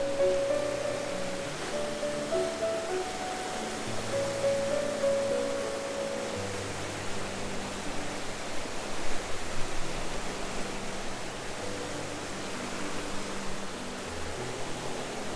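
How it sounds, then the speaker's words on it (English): Whitewater rapids at Hell's Gate on the Kettle River, a class 3+ run in Banning State Park, Minnesota, make a steady, broad rushing roar that stays loud and unbroken throughout, with no voices. "this is Hell's Gate on the Kettle River."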